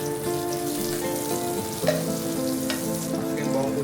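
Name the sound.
butter melting and sizzling in a pan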